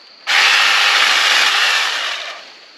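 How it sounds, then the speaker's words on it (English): Wild Badger 40V cordless pole saw cutting a small tree limb, a loud, abrupt high-pitched motor whine with chain buzz lasting about two seconds before winding down. "So I'm hoping this pole saw will reach up high enough to cut enough of that off"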